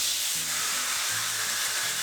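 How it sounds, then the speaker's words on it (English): Chicken sizzles loudly in butter in a pan, a steady, close hiss that continues throughout with a faint low hum underneath. "We hear when it's sizzling. That means it's cooking."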